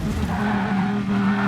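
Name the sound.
car smashing into wall and spinning, Gran Turismo Sport video game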